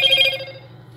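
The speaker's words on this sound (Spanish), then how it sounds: "hay que reiniciar el teléfono" Motorola moto e6 phone restarting, a short bright electronic startup chime that rings briefly and then fades out, clean with no talk.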